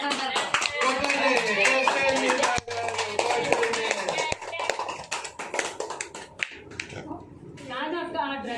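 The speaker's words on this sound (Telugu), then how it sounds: "సర్వ సందర్భంలో కొట్టండి చప్పట్లు" A family claps hands at a young girl's birthday celebration, a quick uneven patter of clapping mixed with loud overlapping talk and chatter nearby.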